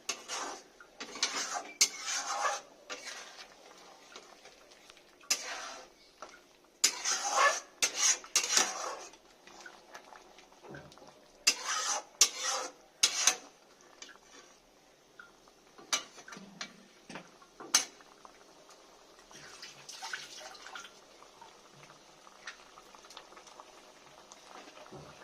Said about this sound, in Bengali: একটু ভালো করে আর একটু নেড়ে দেবেন।